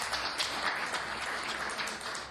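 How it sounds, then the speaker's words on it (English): An audience at a city council meeting claps steadily throughout, dense applause from many hands with no pauses. "Just want to give you all a round of applause."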